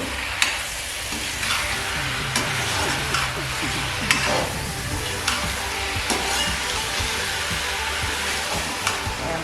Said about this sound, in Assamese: মছলাখিনি ভাজি দিলে